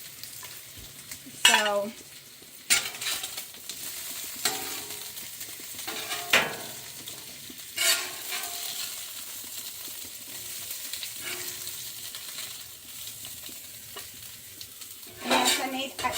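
Bacon frying in a pan, a steady crackling sizzle running throughout, broken by a few sharp clatters of utensils while a person talks intermittently over it.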